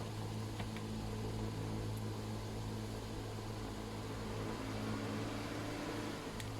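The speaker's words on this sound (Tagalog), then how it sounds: "Malakas yung blower niya" A small ice maker blower fan, on a Hanabishi HICEMAKER240 under repair, hums and whirs steadily at close range, a continuous mechanical drone with a faint tonal whine and no voices.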